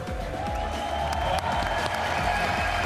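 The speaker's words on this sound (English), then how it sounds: "all you needed to hear were the cheers from the crowd here in Barcelona" A crowd cheering and applauding at an esports racing grand final in Barcelona, a dense steady wash of clapping and crowd noise beneath a continuous music bed.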